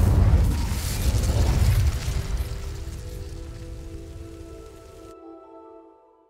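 A fire spell is cast in Hogwarts Legacy, setting dry vines ablaze. A loud whooshing, crackling burst comes first, then a rumble that fades over several seconds into a low tonal hum before the sound cuts off.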